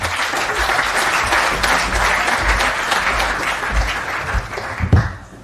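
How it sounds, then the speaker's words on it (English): An audience at the CogX 2019 conference breaks into loud, sustained applause for a keynote speaker, a thick wash of clapping that stays strong before tapering off at the end. "can we have a huge round of applause for our keynote"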